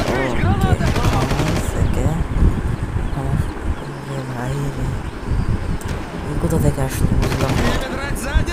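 Rapid automatic gunfire from the Far Cry video game rattles in loud bursts, with overlapping game sounds and a voice talking across much of the clip.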